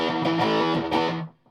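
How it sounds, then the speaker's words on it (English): A modern fuzz distortion guitar pedal sounds a short, buzzy chord that rings steadily, with a few slight pulses, then cuts off abruptly after about a second. "This is a modern distortion."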